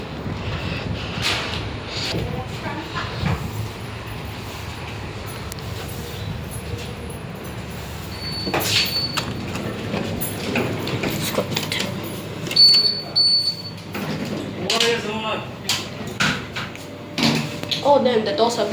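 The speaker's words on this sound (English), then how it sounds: "Oh damn, the doors are a bit slammed." Lift doors at block 84 in Commonwealth slide and bang shut in a few loud thumps, with someone talking over steady background hum.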